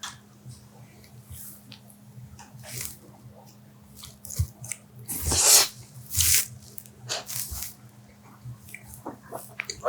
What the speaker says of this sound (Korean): 완성입니다. 한번 먹어보겠습니다.